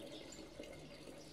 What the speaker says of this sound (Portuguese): Olha só, encher o galão aqui.